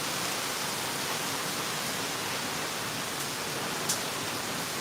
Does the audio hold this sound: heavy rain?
yes